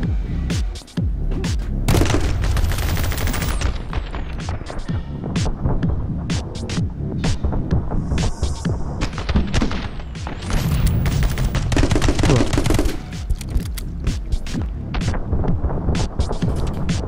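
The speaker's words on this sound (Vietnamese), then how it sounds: "Chúng nó bắn mạnh quá." Enemies firing guns in the action game My Friend Pedro, dense rapid bursts of gunshots and booms crackling almost nonstop, loud and chaotic throughout.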